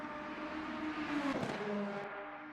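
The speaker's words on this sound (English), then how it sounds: "here comes Lee Ellis in the green Lamborghini" Green Lamborghini race car in a sim racing game at Sebring, its engine droning steadily with a rising whine and a brief louder surge mid-way, no voices.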